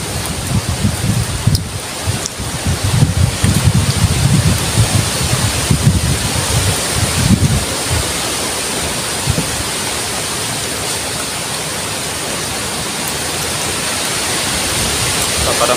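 Steady roaring wind and rain in a typhoon, a dense continuous wash of noise with gusty low-end buffeting on the microphone early on.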